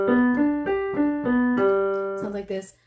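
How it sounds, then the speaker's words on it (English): A single singer runs a vocal arpeggio warm-up, sustained sung notes stepping through a chord up and down, clear and close, ending with a brief breathy trail. "An arpeggio sounds like this."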